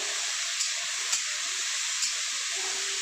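Green beans (barbati) with salt and masala being stirred in a pan over a medium flame, a steady close sizzle and hiss with a few light scrapes of the spoon against the pan.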